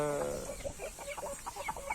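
A cluster of chicks peeping and clucking close by, many overlapping chirps in quick bursts, with no talking.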